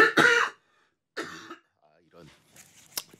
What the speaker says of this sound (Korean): 기침이 나가지고